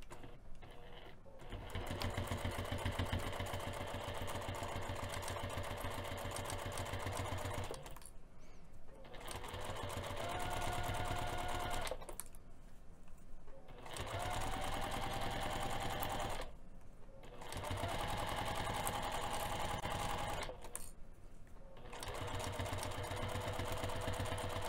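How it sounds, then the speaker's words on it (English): A sewing machine fitted with a zipper foot stitches a pinned fabric seam at a quarter-inch allowance, running in several fast, steady whirring bursts separated by short pauses, close and clear with no talking. "we're going to be sewing this pinned edge using a quarter of an inch seam allowance with the zipper foot"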